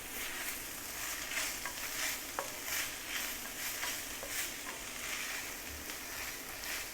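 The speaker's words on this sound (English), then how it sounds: "Let me fry that in." Ginger garlic paste frying in a pan for an Indian egg curry: a steady, close hiss and sizzle with a few light stirring taps, continuous and unvoiced throughout.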